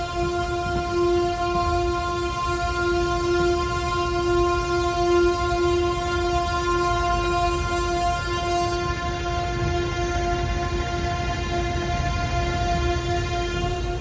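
A passenger mail train rolls steadily into Chennai Central railway station, its long sustained horn droning over the continuous rumble of the cars.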